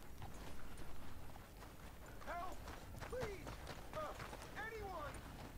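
Horse hooves clip-clop at a steady run in the western game Red Dead Redemption 2, a fairly faint rhythmic patter with chirping birdlike calls and soft ambient noise, while voices talk over it.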